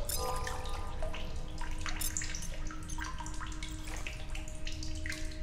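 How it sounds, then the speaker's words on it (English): Water runs steadily as empty bottles are filled in The Solus Project game, a continuous splashing flow with faint drips and a low ambient hum underneath, no talk. "fill my empty bottles."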